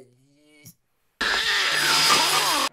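A chainsaw bursts in loud and close after a short silence, holding a steady, rough, high-pitched whine in a film scene; a brief voice-like tone is heard just before it starts.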